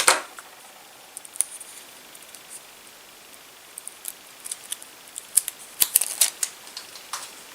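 Scissors snipping paper to trim a printed picture of a person for a journal spread, sparse crisp cuts early then a quicker run of snips near the end, close and clear, with no talking.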